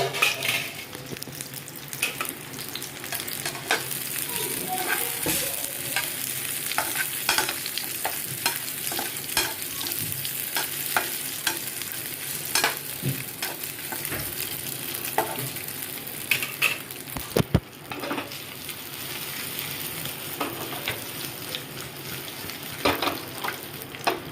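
Kebabs made with mint chutney and dal frying in oil in a pan, a steady close sizzle with occasional scraping and stirring clinks throughout.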